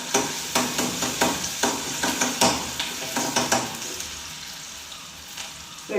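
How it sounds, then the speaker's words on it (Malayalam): Garlic and green chillies sautéing in oil in a village kitchen, a continuous sizzle broken by a regular series of spoon scrapes and stirs close to the pan, then settling into plain frying. "വെളുത്തുള്ളിയും പച്ചമുളകും എല്ലാം ഇട്ട് കൊടുത്തിട്ടുണ്ട്."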